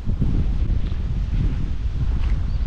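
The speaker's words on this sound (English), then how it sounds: "It's nice and windy out today." Wind blows steadily across open, soggy grounds, buffeting the microphone with a low continuous rumble and no other clear sounds.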